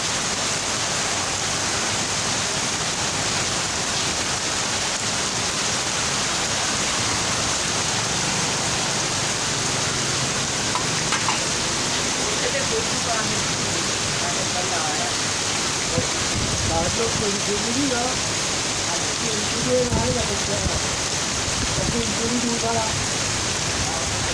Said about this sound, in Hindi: दोस्तों बहुत तेज़ बारिश है